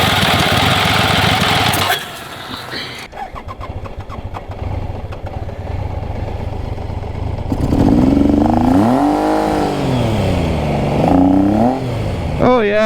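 A small engine, throttle cable repaired with a boot lace, idles roughly, cuts out briefly, then revs up and down in loud swelling waves near full throttle.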